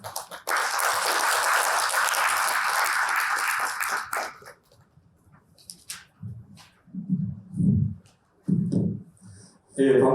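An audience at a legislative policy forum applauds to welcome a vice minister, with steady, even clapping for about four seconds before it stops abruptly, followed by quieter low murmurs.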